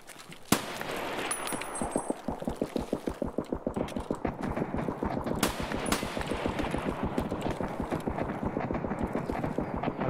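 Gunfire in the video game Escape from Tarkov: a single sharp shot, then a long fast run of automatic fire, loud and close, with a few more distinct shots cutting through the steady rattle.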